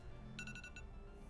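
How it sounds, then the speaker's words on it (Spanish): An electronic alarm marks the end of a five-minute timer during a guided joint-mobility exercise routine: five or six quick high beeps in a short burst, faint and brief over a low background hum. "Ahí tenemos la alarma de los 5 minutos."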